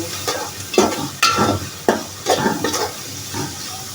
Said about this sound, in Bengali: রসুনের সঙ্গে চেপা এবং শুটকিগুলিকে আমি একটু ভেজে নেব